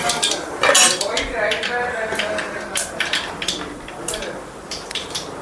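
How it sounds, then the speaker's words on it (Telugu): Metal spoon scraping and clinking against a cooking pot while fenugreek seeds and asafoetida are stirred for Andhra-style drumstick and root vegetable sambar, with a few sharp clatters and steady soft scraping close by. "కలుపుతున్నానండి."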